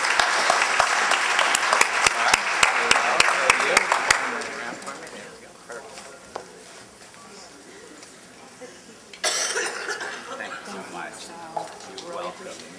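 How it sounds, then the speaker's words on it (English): An audience applauds teachers at a school teacher appreciation event, dense clapping for about five seconds that fades out, followed by a gap and then a later burst of murmur or renewed noise. "A big round of applause for everyone."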